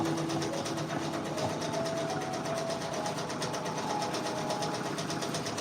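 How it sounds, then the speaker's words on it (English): A Brother Persona embroidery machine stitches out a Drake patch, giving a steady, fast mechanical chatter with a constant motor hum, close and continuous throughout with no talking. "Right now we are stitching out this Drake design right here on this screen."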